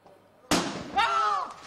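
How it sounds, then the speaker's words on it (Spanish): Sharp gunshots from a shootout between Palestinians and the Israeli army in the West Bank: one loud crack, then a second burst with ringing tail, brief and close. "Ese tiroteo, ya lo ven"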